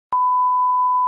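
A single electronic beep sounds as one steady, loud tone lasting about a second, starting abruptly after a brief silence. No voices accompany it.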